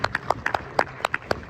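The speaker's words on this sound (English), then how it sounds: "Let's welcome him with applause" A few people at a tech conference stage in Warsaw clap to welcome a speaker, sharp separate handclaps in an uneven, sparse rhythm, fairly close and brief.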